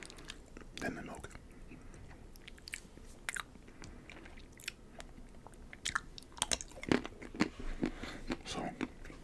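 Chocolate covered strawberries being bitten and chewed right at the microphone, irregular crunchy bites and wet chewing clicks clustering near the start and end, with faint whispering in between.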